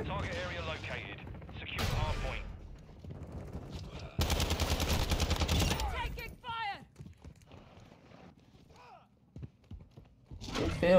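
Bursts of automatic gunfire from the new ISO Hemlock weapon in Modern Warfare 2 on the revamped Dome map, with a dense sustained burst in the middle and shorter volleys around it, mixed with game effects and a player talking.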